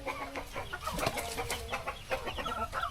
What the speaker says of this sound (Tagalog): Yan, mga manok yan.